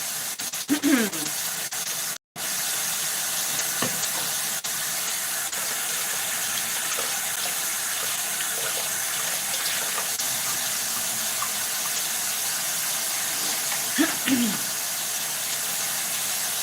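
Blueberries are rinsed under running tap water, which gives a steady, close hiss of flowing water that drops out only once, very briefly, near the start.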